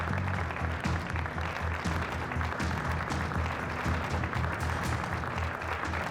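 Steady, dense applause from a large studio audience greets Ali Kozan as he heads to the stage, a continuous clapping wash at even loudness for the full stretch with no voices over it.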